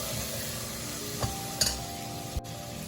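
Kashmiri red chili and salt being stirred in a pan, a soft scraping with a few light clinks of the spoon against the metal, quiet and close with no talk.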